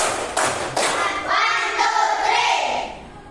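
A clapping icebreaker in a teachers' coaching session: two crisp hand claps, then a third blurred into a swell of voices chanting and talking together.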